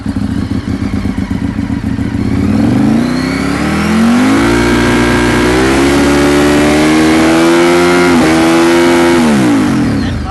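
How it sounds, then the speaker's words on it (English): A Ducati 848 Evo motorcycle engine, 140 horsepower with a 10,500 rpm redline, revs hard and climbs steadily toward redline, loud and close, holding its high whine with a brief dip before rising again. "we actually just cracked the bike up to see what it did hit the red line at"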